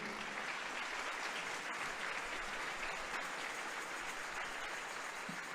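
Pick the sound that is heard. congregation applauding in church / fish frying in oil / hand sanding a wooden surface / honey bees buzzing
congregation applauding in church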